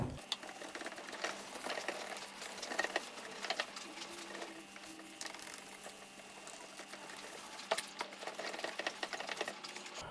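A BMW E39 headlight lens is wet sanded with 3000 grit sandpaper, producing a steady, close, rhythmic scratching and patter that continues without a break.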